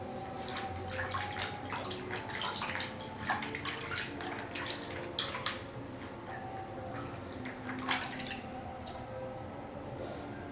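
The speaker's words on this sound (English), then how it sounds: "First is to wash the foot and soak it." A foot is washed and soaked in a water basin, with steady sloshing, splashing and dripping water close by across the whole stretch, and no talking over it.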